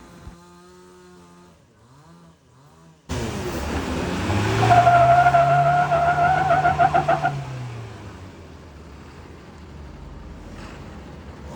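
Mahindra Thar's rear wheels spinning while it strains to pull a Taurus tipper truck uphill: a sudden loud engine surge with a rising tire squeal lasting a few seconds, then the revs fade to a low idle.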